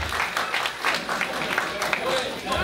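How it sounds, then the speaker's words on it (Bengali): Audience applause at a Pohela Boishakh cultural programme following a song, steady dense clapping filling the whole stretch, fairly loud and close. "সবাই একটু করতালির মাধ্যমে আমরা ধন্যবাদ জানাই তাদের"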